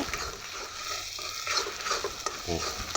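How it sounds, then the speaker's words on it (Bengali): Egg frying in hot oil in a kadai, stirred and shaped with a spatula into a nest, a steady sizzle with scraping strokes near the end, alone without talk. "এবার খুন্তি দিয়ে নাড়িয়ে এটাকে ঝুড়ি বানিয়ে"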